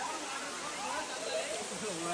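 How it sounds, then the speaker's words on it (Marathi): Steady, broad rushing water from Ashoka waterfall with a low flow on a busy Sunday, a continuous moderate hiss filling the whole stretch without breaks. "वॉटरफॉल चालू झालाय पण हवा तेवढा पाणी नाही वॉटरफॉलला"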